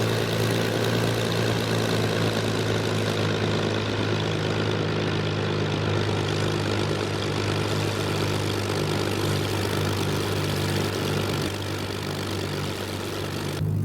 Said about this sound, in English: I really like the muffled sounds of that Merlin engine inside the cockpit